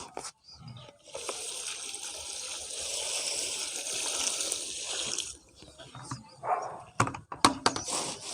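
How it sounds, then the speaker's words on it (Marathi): Water pours steadily onto dry coconut coir in a container while cocopeat is made at home, a continuous splashing rush for about four seconds, followed by a few scattered knocks and drips. "आता याच्यामध्ये टाकू आपण पाणी"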